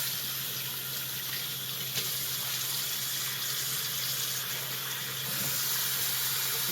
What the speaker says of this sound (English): So we'll go ahead and do another half sink and do one more rinse.